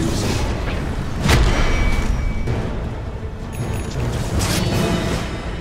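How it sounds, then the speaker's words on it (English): Tower attack in the video game Dota 2, a stretch of dense in-game combat with repeated booming impacts and clanking hits, one heavier thud standing out early, all at a constant loud level. "Radiant's bottom tower is under attack."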